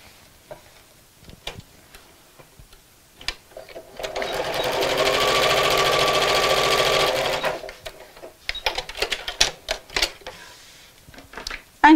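A sewing machine stitches a seam straight across a Christmas gift sack, one loud steady mechanical whir lasting about four seconds, framed by quiet clicks and fabric handling before and after.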